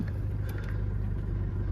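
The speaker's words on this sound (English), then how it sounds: "Just start the car up. Starts and sounds lovely." Steady low diesel idle of a Mercedes-Benz ML250 BlueTEC 2.1 just after starting, an even close rumble with a faint higher whine, no talk.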